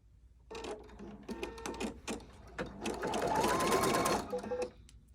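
A sewing machine stitching an appliqué tack-down runs in short bursts, then in a longer steady whirring stretch before it stops. The sound is close and clear, with no talking over it.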